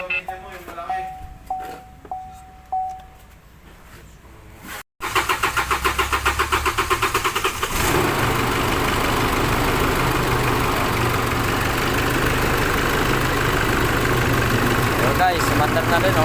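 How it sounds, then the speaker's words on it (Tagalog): A Chevrolet engine with its computer box removed cranks a few times and then catches, settling into a steady, rough close idle, while people talk over the start. "Umandar na yung Chevrolet."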